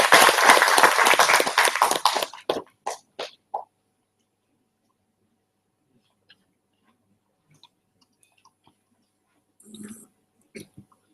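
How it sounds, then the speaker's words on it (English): Symposium audience gives a lecturer a round of applause: a couple of seconds of crowd clapping that thins into a few isolated claps and dies away, followed by near silence with faint small noises. "Please give a big round of applause for Professor Suda."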